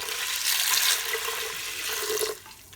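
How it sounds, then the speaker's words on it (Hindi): Water poured from a small glass into a pressure cooker holding brown lentils, a splashing gush that runs steadily then stops abruptly near the end. "इसमें तकरीबन मैं 4 गिलास, छोटे वाले 4 गिलास पानी डाल के और कुकर को चला दूँगी"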